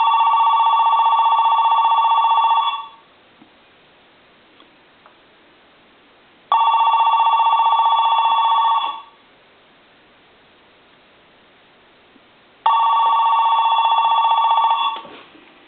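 An AT&T Trimline Model 210 telephone rings in three bursts of electronic warbling bell, each about two to three seconds long, separated by roughly three-second silences; clear and close, with no voices.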